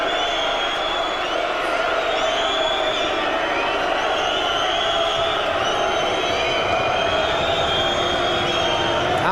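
Boxing arena crowd at a heavyweight bout reacting angrily to a disqualification, a loud, sustained roar of massed voices with whistles and shouts filling the whole stretch, no break or letup.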